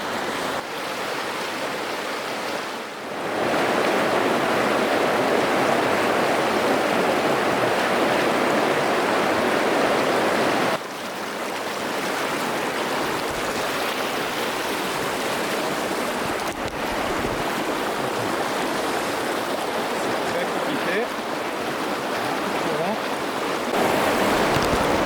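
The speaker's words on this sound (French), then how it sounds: "la rivière." A cold mountain river with a noticeable current rushes in the Canadian Rockies, a loud, continuous broadband wash of flowing water with brief dips in level, heard close up without speech.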